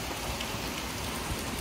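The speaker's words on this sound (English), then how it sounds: "Y'all, it's like raining." Steady rain falling and pattering on surfaces, a dense continuous hiss with no voices.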